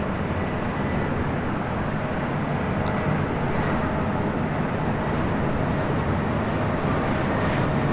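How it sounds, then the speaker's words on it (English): A Delta Airlines Airbus A319 arriving at LAX from Houston: a steady, broad jet roar holds at an even level throughout, with no talk over it. "This is Delta Airlines 1143 coming in from Houston Intercontinental on an A319."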